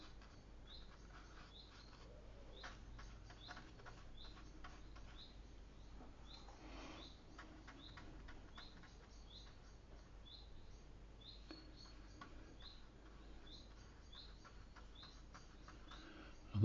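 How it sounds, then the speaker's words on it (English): A chaffinch sings outdoors, its short, faint chirps repeating in quick bursts against quiet background ambience; no voices. "The birds are tweeting today."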